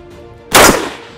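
A single loud AK-47 rifle shot cracks sharply after a quiet moment at a shooting range, followed by a short fading echo.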